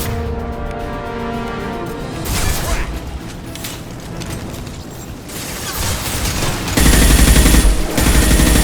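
Gunfire in Mass Effect 2 as mercenary gangs Blue Suns and Torch shoot in a plague-stricken street: bursts of rapid automatic fire and mechanical clatter, growing louder toward the end after a quieter opening.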